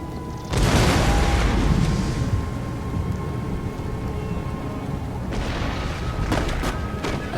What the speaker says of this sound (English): A 64-pounder heavy artillery, I know it's an amazing gun to do this